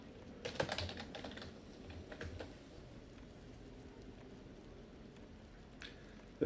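Keyboard typing at a computer, soft irregular clatter of keystrokes with a busier burst near the start, then sparser taps over a steady low room hum, fairly quiet and close.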